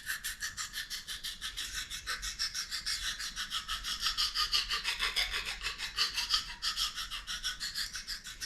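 A knife blade rasps in steady back-and-forth strokes across a 400-grit oil stone, a rhythmic scraping that stays close and fairly loud throughout with no speech.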